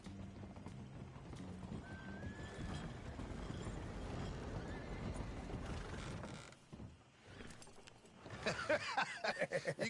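A horse in the game Red Dead Redemption II, with a rapid, steady clip-clop of hooves, creaking tack and a brief neigh, close and continuous, growing busier and louder near the end.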